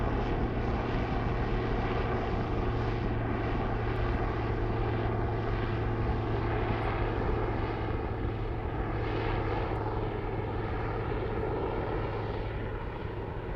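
SpaceX Falcon 9 rocket engines roar steadily through max Q during a launch carrying two WorldView Legion satellites, a continuous dense rumble that stays loud and unbroken throughout.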